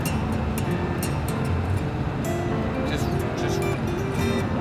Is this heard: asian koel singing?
no